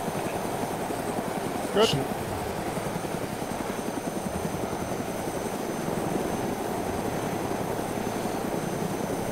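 Helicopter in the video game DayZ, on the Lingor Island map, with a steady droning rotor and engine hum throughout, close and loud, while someone speaks briefly over it.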